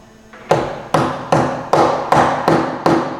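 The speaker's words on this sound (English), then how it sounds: "Take a hammer, rubber mallet, whatever you want." Rubber mallet knocking arcade cabinet parts into place, six firm, evenly spaced thuds, loud and close, each with a short decaying ring.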